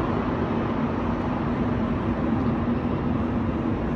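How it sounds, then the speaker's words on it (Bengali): A Montreal underground subway train rolls into the station with a continuous, loud, low rumble and broadband roar that holds steady the whole time. "এই আমার ট্রেনটা চলে আসছে"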